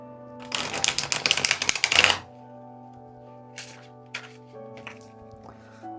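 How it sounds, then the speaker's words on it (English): An oversized Magical Hours tarot deck is riffle shuffled in one rapid, rattling burst of card flicks lasting under two seconds. A few soft taps follow over a faint steady hum. "when you're trying to shuffle it or do a riffle"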